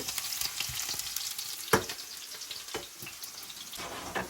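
Garlic fries in a pan with a constant sizzle, broken by occasional stirring scrapes and knocks, heard up close and alone.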